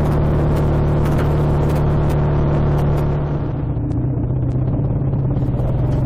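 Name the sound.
BSA A65 motorcycle riding on road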